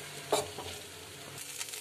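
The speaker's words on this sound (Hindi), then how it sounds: "अब इसको हम फ्राई कर लेंगे। मिक्स कर लेंगे अच्छे से।" Soaked poha being fried and mixed in a pan, with a faint low sizzle and a few quiet spatula scrapes, close but soft.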